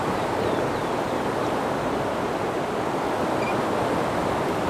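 Rapids and waves rush steadily on the Gunnison River, a loud, unbroken roar of churning water with no voices over it.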